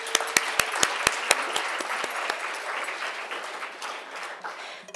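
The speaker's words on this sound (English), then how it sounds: "So let's give them a round of applause." Audience applause for a presentation's staff and team members at an Anderson Ranch talk, opening with a few sharp separate claps that swell into steady, dense clapping from a sizable crowd, fairly close and clear with no talking over it.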